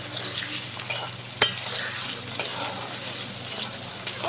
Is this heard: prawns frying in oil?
yes